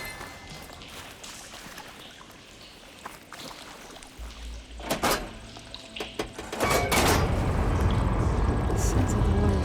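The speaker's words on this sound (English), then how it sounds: "Sounds like the water's switched." Water flow switching over in Horizon Forbidden West, machinery clunks and knocks followed by a loud, steady rush of flowing water that rises and holds to the end.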